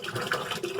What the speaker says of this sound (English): Stop turning the water on until I'm done.